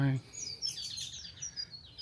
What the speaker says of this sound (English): Oh, I heard baby bird.